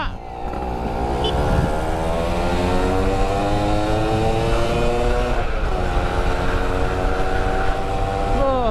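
Yamaha F1ZR two-stroke motorcycle revving hard and steadily close by, its buzzing engine note rising and holding for several seconds, with voices talking over it.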